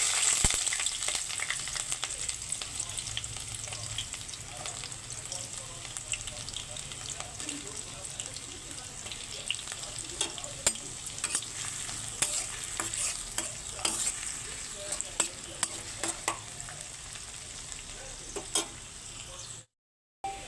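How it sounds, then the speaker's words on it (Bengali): Chopped onion fries in hot oil in a wok, giving a continuous, close sizzle with stirring scrapes, steady and fairly loud, cutting out briefly just before the end. "কড়াইয়ে তেল গরম হয়ে গেছে এখন দিয়ে দিচ্ছি পেঁয়াজ কুচি"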